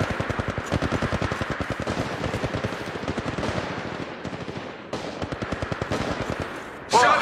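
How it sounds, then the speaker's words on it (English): Rapid automatic weapon fire in Apex Legends Mobile, with long, continuous bursts of close, loud shots rattling in quick rhythm, briefly pausing before resuming, with a voice breaking in at the end. "Shots fired."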